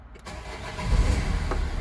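A Nissan, Vauxhall or Opel car engine with a bad EGR valve cranks briefly, then catches and starts, settling into a low rumbling idle close to the microphone.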